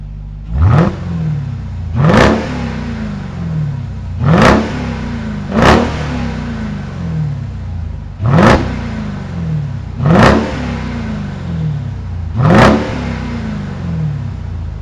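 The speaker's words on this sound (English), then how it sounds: "Let's go ahead and hear how this Hellcat sounds." A 2021 Dodge Durango SRT Hellcat AWD, a 710 hp three-row SUV, revs through its dual exhaust in seven sharp throttle blips, each rising into a loud roar and falling back to a rumbling idle, with no voices.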